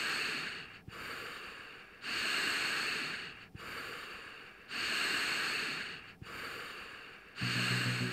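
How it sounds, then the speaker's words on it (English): Slow, deep breathwork exercise breaths: long airy inhales alternate with steady exhales in an even rhythm, close and quiet, with no talking. "we start the breathing"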